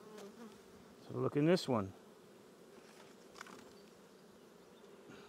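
Honeybees buzz around an open beehive with brood and larvae, the hum low in the background until a brief, loud, close buzz sweeps past; a person speaks briefly.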